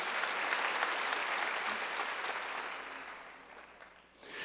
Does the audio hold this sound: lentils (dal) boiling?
no